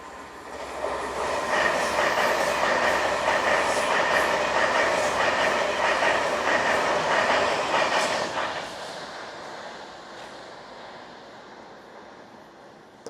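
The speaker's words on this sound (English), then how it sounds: "Hey, I was hoping you get to see a train." A passing train rumbles loud and close with rhythmic clickety-clack from the railcar wheels, holding steady for several seconds before fading into a quieter distant roar; no one speaks.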